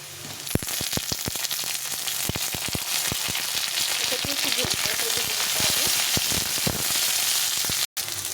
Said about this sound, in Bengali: আলু আর বেগুনটা সুন্দর লাল লাল করে ভাজা হয়ে গেছে